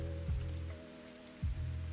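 Rain falls at night in the survival game Green Hell, a soft, steady patter with a constant low tonal hum beneath and two brief thuds.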